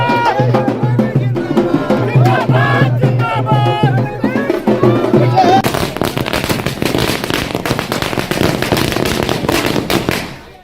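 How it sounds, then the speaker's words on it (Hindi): Firecrackers and fireworks set off by party workers at a political celebration, with drums playing; a loud dense stream of crackling bursts and rapid pops over drumming and crowd noise, growing busier toward the end. "जेडीयू कार्यकर्ताओं ने ढोल बाजे के साथ आतिशबाजी की"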